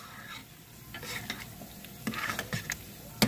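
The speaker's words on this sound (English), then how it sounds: "Just give them a good stir." Refried beans being stirred in a pot, with a scraping, swishing rhythm of spoon against the pan over a soft background sizzle, close and steady with a few sharper knocks near the end.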